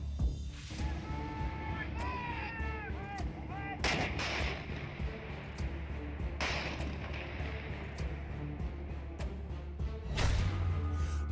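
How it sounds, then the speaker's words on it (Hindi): Gunfire and mortar fire at the border: repeated sharp blasts and heavier booms at irregular intervals over a busy background, with voices faintly audible throughout. "बॉर्डर पर दनादन गोली चली"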